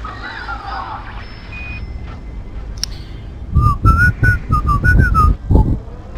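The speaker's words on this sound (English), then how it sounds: "I whistle when I'm bored, okay?" A person whistles a short, bouncy tune, clear and close, over a low background of game music and noise.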